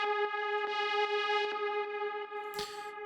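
A hard techno synth patch runs through tube distortion and multiband compression, sustaining a dense, buzzing harmonic tone with faint rhythmic pulses and a bright noisy burst near the end.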